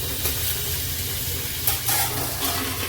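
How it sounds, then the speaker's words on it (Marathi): Tomato frying in oil in a pan alongside browned onion and chutney masala, a steady close sizzle with occasional stirring scrapes throughout. "टोमॅटो पण चांगला तेलामध्ये भाजून घ्यायचा"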